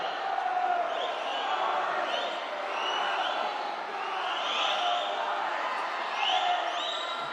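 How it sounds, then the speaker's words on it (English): A crowd cheers and shouts at an age group swimming championship pool, a loud, continuous roar with rising whoops echoing around the venue. A commentator talks over it. "Awesome to see everyone cheering him on as well. It's really loud down here."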